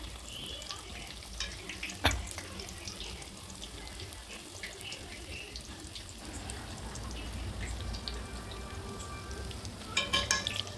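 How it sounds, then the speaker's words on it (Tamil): Banana flower vada mixture cooks in a pan with a faint, continuous sizzle and occasional stirring scrapes, quiet and close. "இது இன்னும் கொஞ்சம் நேரம் வேகணும். நல்லா கிளறி விடணும்."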